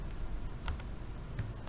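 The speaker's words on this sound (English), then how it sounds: "So I will type here a word," Keys on a computer keyboard being pressed to type a short word, a few crisp clicks in an irregular rhythm, close by and alone over a faint background hum.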